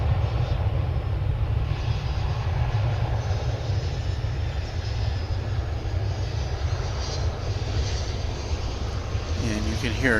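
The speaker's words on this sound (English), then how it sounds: "United plane's going to San Francisco. It's an A319." United Airlines Airbus A319 taking off at DFW International Airport, a loud, steady low jet roar holding for the whole stretch, heard from a distance with no voices over it.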